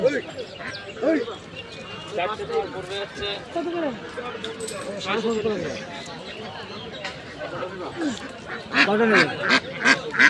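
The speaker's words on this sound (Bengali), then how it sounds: "মেয়ে হাস ডাকছে ডাকছে ডাকছে ডাকছে" Female ducks quack at a busy poultry market in Krishnanagar, their repeated nasal calls rising through crowd chatter and a vendor's talk, growing louder and denser toward the end.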